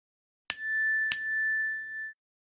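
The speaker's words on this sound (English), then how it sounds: "I got a notification on my own phone." A phone notification chime for an incoming AirDrop request plays two bright, clean dings about half a second apart, the second ringing out longer before fading, alone in silence.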